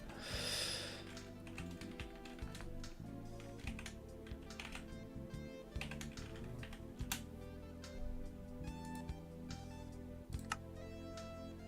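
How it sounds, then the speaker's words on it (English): Someone types on a computer keyboard at a desk, producing rapid, uneven clicks and key taps, faint and close, with a brief rustle at the start and no talking. "Why can't I see what I'm typing anymore?"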